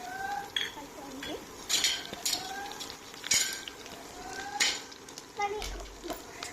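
Onions and curry leaves sizzle in a hot pan while a spatula stirs them, with intermittent clinks and scrapes against the metal over the crackling fry at close range.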